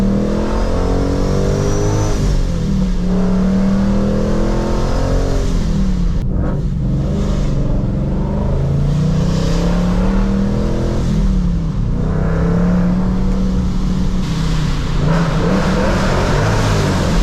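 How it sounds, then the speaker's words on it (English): A 2021 Ford Mustang Mach 1 with a supercharger, driven in rain, revs its engine in a steady interior-heard drone with rising and falling pitch sweeps as it accelerates and rev-matches through gear changes, loud throughout. "So this is a 2021 Mach1 Mustang."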